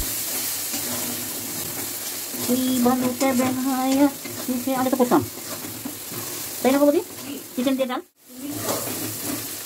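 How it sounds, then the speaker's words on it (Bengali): Spices being fried in a pan for a meat and lentil dish, a low sizzle and stirring under a person talking for much of the time, with a brief sharp break near the end. "সমস্ত মশলাগুলোকে ভালোভাবে কষিয়ে নিতে হবে"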